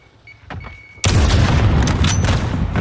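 Gunfire in a Call of Duty esports match. Faint clicks come first, then a sudden loud blast opens into a sustained roar of shots and explosions.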